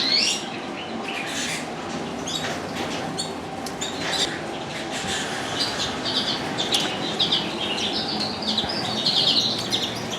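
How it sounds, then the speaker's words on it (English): Caged redpolls and native finches chirping and twittering steadily in an aviary, busy overlapping calls throughout with no voices. "over this side is where my native finches are, my redpolls"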